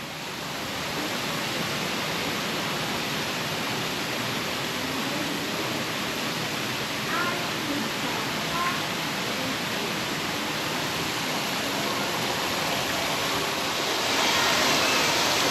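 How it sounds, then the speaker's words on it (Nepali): Small artificial waterfall in a landscaped garden at Longwood, Pennsylvania, a steady broadband rush of falling water, close and constant, with no talking over it. "यहाँनिर झरना रहेछ, सानो झरना बनाएर रहेछ है"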